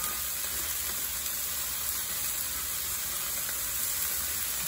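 Pea sprouts stir-fried with garlic in a hot wok give off a steady, close sizzle and hiss that runs evenly from start to finish, with no voices over it.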